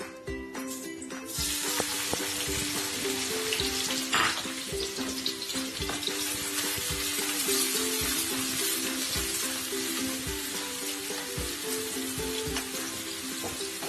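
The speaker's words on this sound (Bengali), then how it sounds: "পেঁয়াজটা আমরা ভালো করে ভেজে নিব।" Onion dropped into a cup of hot oil for pulao, a sudden loud crackling sizzle that swells after the first second and stays intense and steady, with scattered stirring knocks beneath it and no talk.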